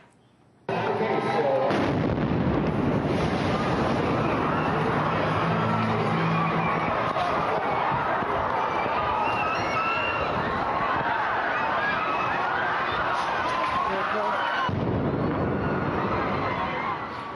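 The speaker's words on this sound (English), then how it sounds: "You can actually hear the explosions." A dense, loud roar of crowd noise and commotion at the Boston Marathon, with two heavy booming explosions in the distance.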